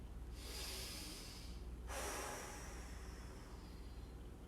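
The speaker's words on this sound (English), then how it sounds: "Nice deep breath, and then exhale" Slow, deep breaths during a hip and low-back stretch: a long breathy inhale, a short pause, then a longer hissing exhale, close and soft with no talking.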